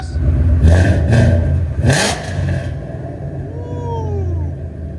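A supercharged Ford Mustang GT with a 5.0L V8, headers and a Legato axle-back exhaust revs up loudly in a few quick blips, its deep rumble then settling toward idle, heard close with no talk.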